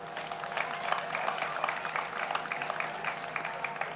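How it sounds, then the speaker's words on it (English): Steady crowd applause at the official inauguration ceremony of India Fest Townsville, a large outdoor gathering at Riverway, a dense even clapping sustained through the clip with no talk over it. "Let's give them a round of applause."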